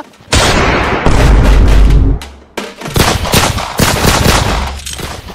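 Bursts of rapid gunfire crackle loud and close, a dense barrage that pauses briefly and resumes, with occasional booming blasts mixed in.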